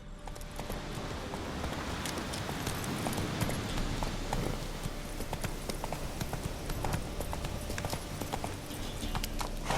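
Hooves of Roach, a horse in The Witcher 3, galloping in a fast, steady clip-clop rhythm over ground, close and continuous throughout.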